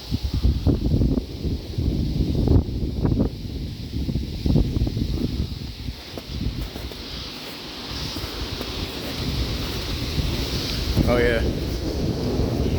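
Strong wind blows outdoors, buffeting the microphone in heavy gusts with rustling roar throughout, close and loud, while a voice speaks briefly.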